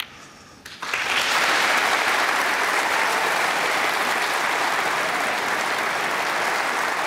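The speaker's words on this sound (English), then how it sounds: "And a terrific round of applause for his second century." Applause from a snooker crowd at the Masters in 2015 after a century break, a sudden loud burst of many hands clapping that stays dense and sustained to the end.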